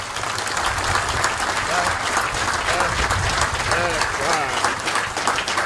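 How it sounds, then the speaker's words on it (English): A large crowd at a military graduation ceremony gives sustained applause for awardees, a steady, loud wash of clapping with crowd noise and some voices mixed in. "Ladies and gentlemen, please join me in giving our awardees another big round of applause."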